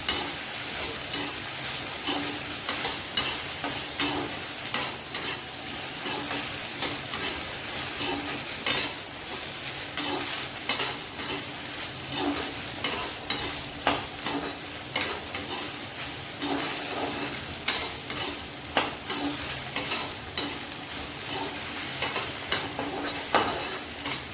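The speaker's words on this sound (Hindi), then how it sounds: "अब मैं इसको अच्छी तरह से चला दूँगी" Okra (bhindi) with spices is stirred in a pan, a steady sizzle of frying beneath repeated scraping of a spoon against the metal, close and continuous with no talking.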